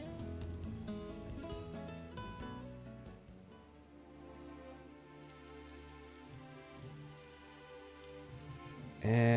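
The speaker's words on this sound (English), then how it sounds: "And it's raining!" Light rain patters steadily beneath a soft musical backdrop, fairly quiet and continuous throughout, in the video game Final Fantasy XV.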